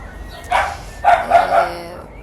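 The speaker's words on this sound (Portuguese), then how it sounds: "Os cachorros estão latindo muito, então acho que é melhor eu parar." Dogs bark outside a home in a short burst, first one bark and then a quick run of three yelps, moderately loud and close behind a quiet background.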